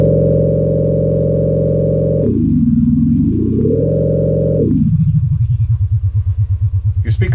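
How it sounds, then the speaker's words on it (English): Deep, powerful synthesizer bass note from a Qu-bit EON Eurorack module, a loud sustained buzzy tone that sweeps down in pitch, rises again, then drops into a low throbbing pulse. "It's a real powerful bass note."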